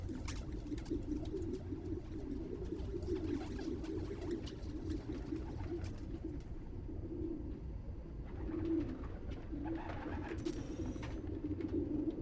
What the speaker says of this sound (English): How did Dad record this? Is he a pigeon whisperer?